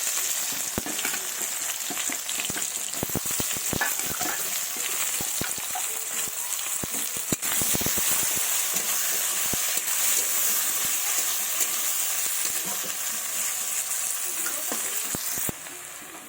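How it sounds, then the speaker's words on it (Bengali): Chopped onions fry in oil for a fish curry, a steady close sizzle with stirring scrapes and clicks throughout, easing slightly at the end, with no voices. "পেঁয়াজগুলো আমার লাল লাল করে ভাজা হয়ে গেছে"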